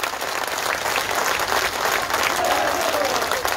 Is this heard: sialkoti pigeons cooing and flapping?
no